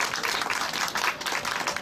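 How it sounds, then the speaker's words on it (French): An audience at a TV fiction festival breaks into dense, loud applause. The clapping is continuous and close, with no break. "On les applaudit très fort"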